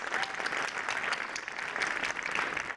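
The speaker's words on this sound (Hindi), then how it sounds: "एक दफा मैनेजमेंट के लिए भी तालियां" Applause for a school's management at a school event: dense, even clapping from a gathered audience, moderately faint, with no voices over it.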